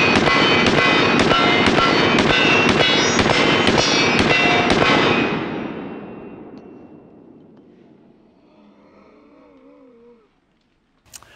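A rapid burst of sharp shots comes from a BUL Armory SAS II SL-AIR pistol, loud and evenly spaced for about five seconds, then fades into a long decaying echo and quiet.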